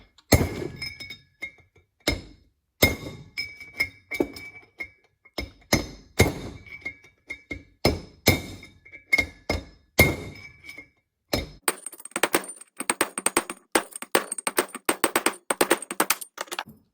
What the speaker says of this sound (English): I've got my punch sitting in here. I'm using a big brass hammer.